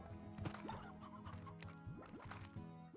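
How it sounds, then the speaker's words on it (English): Chickens cluck in the video game Slime Rancher, several short pecking clucks scattered over a busy, steady game soundscape, with no talking. "A lot of chickens in this area."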